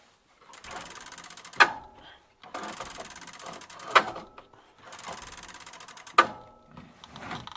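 A Juncker bicycle brake lever with a Sturmey drum brake is pulled three times, each squeeze a buzzing ratchety mechanical whir ending in a sharp click as the lever snaps back, close and clear with short pauses between.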